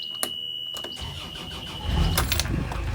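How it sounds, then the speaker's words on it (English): A boat engine starting with a high steady oil-pressure alarm tone that cuts out as the engine catches and settles into a louder rumbling idle. "This noise is normal when you're starting the engine, as you have no oil pressure"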